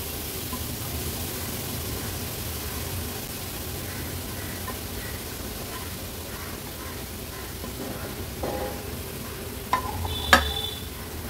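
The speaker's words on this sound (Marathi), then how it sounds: "मीडियम फ्लेम वर व्यवस्थित तुपावर हा खिसलेला गाजर परतून घेणार आहे।" Grated carrot sautés in ghee over a medium flame for gajar halwa, a steady soft sizzle with faint stirring scrapes throughout and a couple of sharper clatters near the end, close and without speech.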